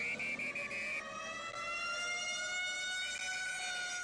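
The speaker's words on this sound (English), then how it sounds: "The constant wail of sirens." Emergency sirens wail steadily from a distance, several rising and falling tones overlapping in a faint, continuous drone with no voices.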